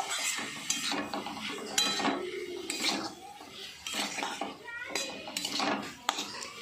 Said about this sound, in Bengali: দিয়ে আলু আর মশলাটা কষিয়ে নিচ্ছি।